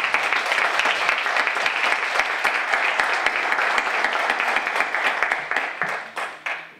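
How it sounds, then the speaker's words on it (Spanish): An audience applauds at a talk, a dense crowd of clapping hands that stays steady and fairly loud, then thins out into a few scattered claps as it fades. "no quiero que se excedan tampoco en sus aplausos"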